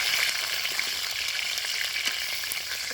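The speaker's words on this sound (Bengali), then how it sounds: "আর আমরা আলুগুলো ভেজে নেব।" Potatoes fry in oil with a dense, steady hiss and crackle, unbroken and close-up, with no voices over it.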